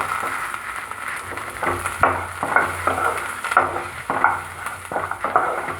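Chopped onion, ten garlic cloves and grated coconut stirred and sautéed in a pan for sundakkai thuvaiyal, with a steady sizzle under repeated scraping strokes of a spoon against the metal.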